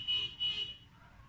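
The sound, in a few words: car horns honking outside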